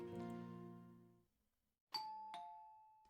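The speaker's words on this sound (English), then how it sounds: "I rang the doorbell and waited" A doorbell chime in the visual novel game Kara no Shoujo: a sustained tone fades out, then after a brief silence two clean ding-dong strikes ring out clearly, alone without talk.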